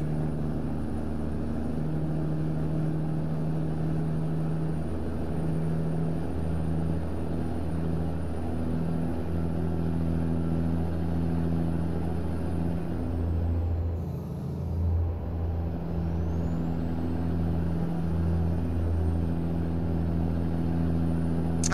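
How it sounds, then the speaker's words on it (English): Steady low truck engine drone in American Truck Simulator, with a faint high turbo whistle running above it throughout, continuous and even with no talk. "you're probably just hearing mostly the engine sounds, but the turbo whistle on this is amazing"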